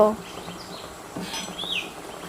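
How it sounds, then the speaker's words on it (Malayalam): A spoon stirring homemade soap mixture with Dettol in a bowl, producing a few light scrapes and clinks against the container, close and fairly quiet, with no speech. "എന്നിട്ട് നന്നായിട്ടൊന്ന് ഇളക്കി കൊടുക്കണം"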